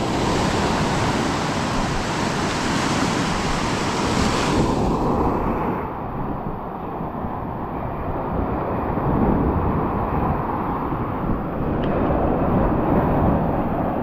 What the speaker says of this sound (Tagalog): Malakas yung alon, nakakatakot.